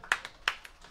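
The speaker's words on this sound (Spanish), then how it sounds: "¡Aplausos!" A few sharp, separate hand claps ring out, nearby and somewhat irregular, at a wedding celebration in San Ildefonso Ixtahuacán, Huehuetenango.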